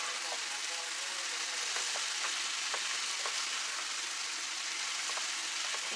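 Vegetables sizzle steadily in a hot pan after flipping, a dense, constant frying hiss with faint crackling pops throughout, close and continuous with no talk.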